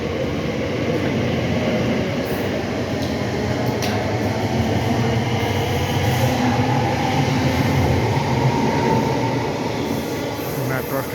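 A London metro train rumbles along steadily from inside the carriage, a loud continuous roar with faint squeals and clatter throughout.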